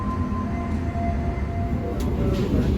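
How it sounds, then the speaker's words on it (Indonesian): The Harina economy-premium passenger train runs between Padalarang and Bandung at a slow 50 to 60 km per hour, producing a continuous low rumble of wheels on rails heard from inside the carriage, with faint tonal squeals and occasional clicks. "kereta api Harina telah diberangkatkan dari stasiun Padalarang ya."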